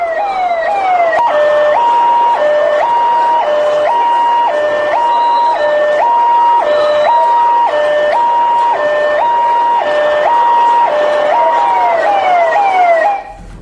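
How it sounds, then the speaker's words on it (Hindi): An ambulance siren wails loud and close in a steady repeating two-tone pattern as it moves through a dense crowd at the Puri Rath Yatra festival, with faint crowd noise beneath. "फौरन इस भीड़ ने रास्ता दिया और फौरन एम्बुलेंस गुजरी है"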